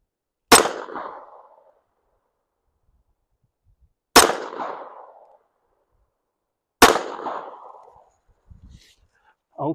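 .22 LR automatic pistol fires three loud, sharp shots a few seconds apart, each with a short decaying echo, followed by faint handling clicks.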